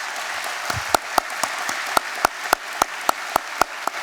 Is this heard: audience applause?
yes